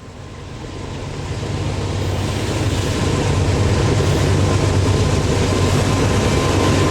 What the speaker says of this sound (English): Norfolk Southern is constantly repositioning helper sets to move trains over the Allegheny Mountains